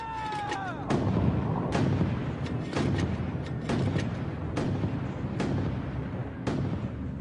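Repeated heavy booms of platoon mortar fire in the Korean War, roughly one every second, sharp thuds that roll out into a sustained rumbling, battlefield background between shots.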